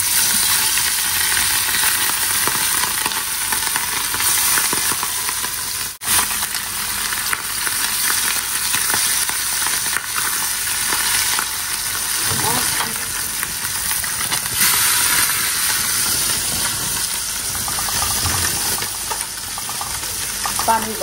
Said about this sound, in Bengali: আর এই যে ট্যাংরা মাছগুলোকে না একটু ভাজি করে নেবো